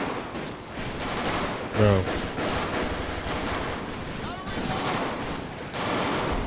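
Rapid, sustained gunfire fills a GTA 5 police gang-unit patrol, with dense overlapping shots heard alongside someone talking in excited bursts.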